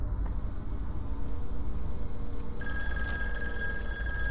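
A telephone bell starts ringing partway through in the horror game In Sound Mind. It rings loud and shrill over a constant rumbling ambience, with no voices.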